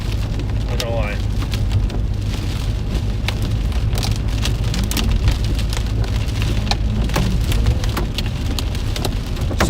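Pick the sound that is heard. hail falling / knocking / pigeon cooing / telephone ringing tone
hail falling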